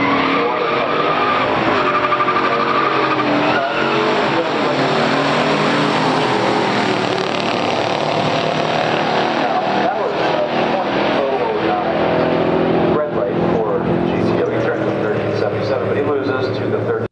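A black 1970 Chevelle 454 LS6 with white stripes drag races a 1965 Pontiac GTO in pure stock racing, with loud engine roar, squealing tires and gear shifts over a steady crowd and track din, as an announcer talks throughout.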